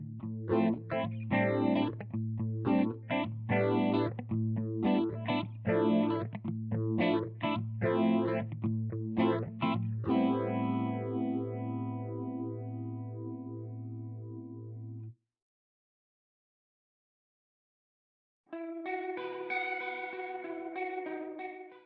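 Electric guitar through a Strymon Zelzah phaser pedal, strummed chords giving way to a long swirling sustained chord, a brief silence, then more processed playing.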